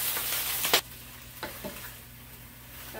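Collard greens and spinach cooking down in a pan over low heat, a soft steady sizzle with a couple of sharper scrape or stir clicks, fairly quiet and without talk.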